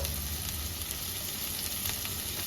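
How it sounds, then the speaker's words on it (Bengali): Steady, close sizzling of potatoes frying in hot oil in a pan, a continuous crackling hiss with occasional pops and no talking. "আলুটা আমার ভাজা হয়ে গেছে"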